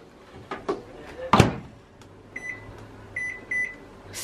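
Kitchen microwave oven being loaded and set to heat a portion of salmon: a door clunk and thuds, then several short electronic beeps from the keypad, close and fairly loud over a low hum.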